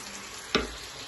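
Food frying in a pan gives one brief, soft burst of sizzle over a faint, steady background hiss.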